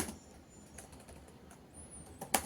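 Keys tapped on a computer keyboard while writing C code, a few soft, scattered clicks close by with one sharper tap near the end, quiet and without speech.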